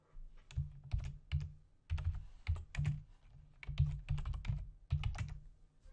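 Keys clattering on a computer keyboard as a name is typed into a custom page header, in quick bursts of clicks with short pauses between, close and clear with no talking.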